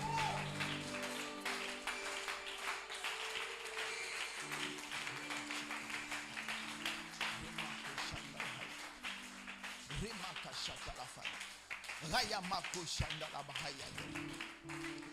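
Church congregation acclaiming and applauding during a French-language worship service, scattered clapping and cheering spread across the room under sustained music and voices, with a louder swell near the end.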